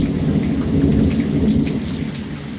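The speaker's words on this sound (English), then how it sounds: "Y'all hear that thunder rumbling?" Thunder rolls low and continuous beneath steady, heavy rain pattering on surfaces, loud and enveloping throughout with no voices.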